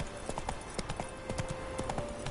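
Geralt's horse trots along in The Witcher 3 video game, its hooves giving a quick, steady clip-clop rhythm that is close but fairly quiet.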